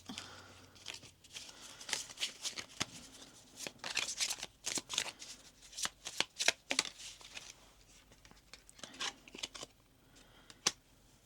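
Tarot cards shuffled by hand, a quiet close series of crisp riffling and flicking bursts in irregular rhythm, with soft papery shuffles between them.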